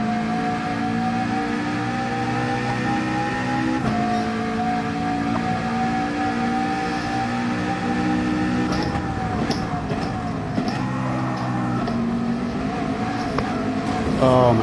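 McLaren race car engine in a racing video game, a loud sustained engine drone with steady harmonic whine that shifts pitch as the car works through gears, with a voice talking over it.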